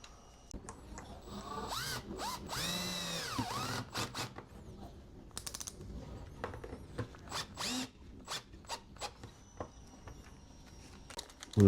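A power drill drives screws in a Toyota Tacoma truck camper interior, giving several short, close bursts of whirring with a longer rising and falling run early on, separated by quiet gaps.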